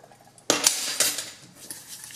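A spoon stirs a coffee, sugar and oil body scrub in a bowl, with a burst of close gritty scraping and clinks against the bowl, a quieter pause, then more scraping strokes.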